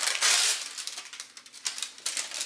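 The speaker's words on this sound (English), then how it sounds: "You can get a scrap of parchment paper and use it to close the edges." A scrap of parchment paper is crinkled and rustled while keto pumpkin empanadas are being sealed in a kitchen, a crisp rustle that stays close and busy throughout.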